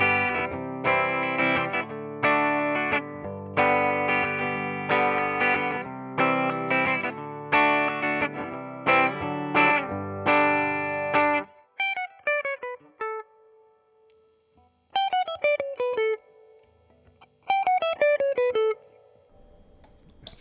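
Sire Larry Carlton H7F electric guitar on the bridge pickup through effects pedals, playing strummed chords with a chorus-like, slightly driven tone, then sparse ringing arpeggiated notes with gaps between phrases, close and clear with no talking.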